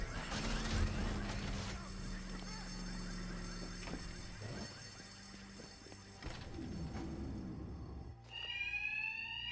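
Alarms ring steadily throughout a Batman: Arkham Knight game scene, a continuous tone under scattered crashes and mechanical clatter, with a brief higher warbling tone near the end.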